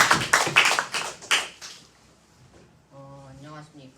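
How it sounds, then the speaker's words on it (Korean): A small audience at a Christian school presentation gives a short burst of sharp, close claps lasting under two seconds, which trails off before a voice begins speaking. "우리 박수로 시작할까?"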